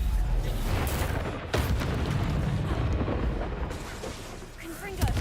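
Expulso blasting spell explosion in Hogwarts Legacy, a loud rumbling burst within busy combat noise, with a sharp boom around the midpoint and another pop near the end, voices calling over it.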